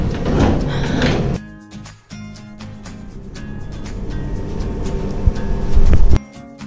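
A drawer slides open in a themed hotel room in Bali, a rumbling scrape with soft knocks and a clunk near the end, fairly close and moderately loud with no one speaking.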